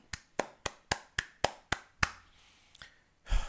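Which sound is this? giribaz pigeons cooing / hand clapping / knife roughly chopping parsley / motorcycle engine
hand clapping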